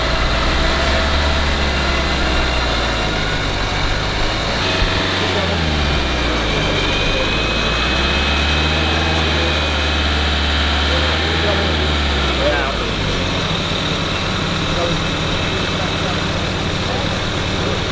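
A Dacia Duster stuck on sand idles and revs gently in neutral during a winch recovery, a steady low engine drone rising and falling in slow swells, with people talking over it.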